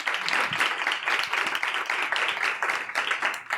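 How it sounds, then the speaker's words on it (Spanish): A bar audience claps steadily after two speakers are introduced at a talk series, dense continuous applause from a small crowd nearby with no voices over it. "Un aplauso, por favor"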